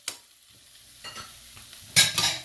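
Chopped cabbage filling for kebabs stirred in a pan, with soft scraping and light sizzling that build to a couple of louder utensil scrapes near the end, close and without talk.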